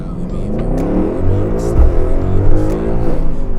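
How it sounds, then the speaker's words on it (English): A 900 HP Brabus-tuned Mercedes-AMG GLE 63 S coupe accelerates hard, a loud, deep engine roar with a rising drone that surges and holds throughout, heard from inside the car. "Guys, such an amazing acceleration, and it's even wasn't a launch start, yeah? So amazing sound, absolutely."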